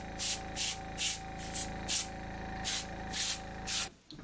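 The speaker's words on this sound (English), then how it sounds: "you don't need an airbrush compressor to do this" An airbrush sprays acrylic paint in a rhythmic series of about nine short hissing bursts, evenly spaced over a steady compressor hum, close and fairly loud, before the sound cuts off.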